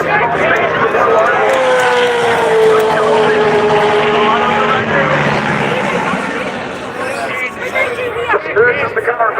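A Monster Mustang race car makes a fast run at a top shootout racing event, its engine roaring loud and sustained before easing off, under continuous announcer commentary and crowd noise.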